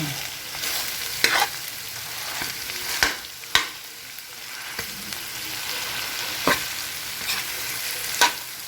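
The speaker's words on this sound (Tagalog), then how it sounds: "Gisa-gisa lang." Corned beef sautés and is stirred in a pan as the first step of a corned beef omelette. A steady close sizzle runs throughout, broken by a few sharp scrapes and taps from the spoon, and no one speaks.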